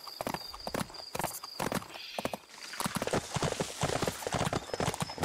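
Rapid clip-clop of a horse's galloping hooves in the video game Bibi und Tina, loud and close, pounding in a steady rhythm with a brief pause midway before resuming.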